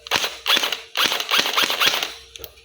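A nylon MCX-style gel blaster toy gun fires a rapid string of sharp, snappy cracks in two quick bursts, close and loud, with a faint mechanical click near the end.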